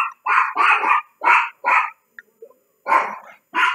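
A dog barks loud and close in a quick series of sharp barks, a short pause, then two more, with nothing else heard.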